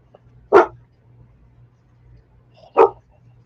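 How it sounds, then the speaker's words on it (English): A dog barks twice, loud and close, each a single sharp woof about two seconds apart over a quiet indoor background hum. "Your dog is really loud."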